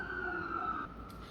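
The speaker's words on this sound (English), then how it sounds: "these sirens keep going off" A siren sounds at a distance with a steady wavering tone, fairly faint and alone, and shifts pitch briefly near the end.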